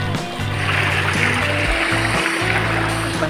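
Small stream in the countryside of Gabo, a continuous near trickle and babble of flowing water with a low hum running beneath it.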